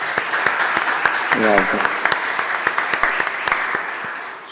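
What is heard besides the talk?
audience applause at a webinar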